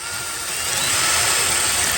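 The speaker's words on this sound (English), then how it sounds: "So to do this, we're going to drill a hole in the bottom." A power drill bores a hole into the bottom of a homemade Halloween tombstone. It gives a steady, close whirring whine that builds slightly and holds for about two seconds.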